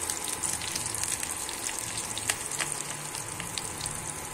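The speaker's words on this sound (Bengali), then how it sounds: "এবারে ফোড়নে দিয়ে দেবো কিন্তু কালো জিরে।" Black cumin (kalo jeere) seeds sizzle steadily in hot oil in a pan still holding fried potatoes, a Bengali tempering for hilsa curry with eggplant; a dense, continuous crackling hiss with small pops, close and alone.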